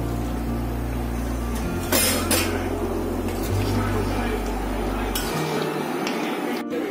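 Chicken curry is stirred in a pot, with utensils clinking against cookware in a few bright scrapes over a steady low kitchen hum.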